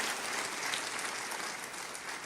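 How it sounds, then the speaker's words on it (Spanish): A church congregation claps loudly and steadily throughout, a dense continuous wash of hands with no voices rising above it. "Dale un aplauso más fuerte al Señor."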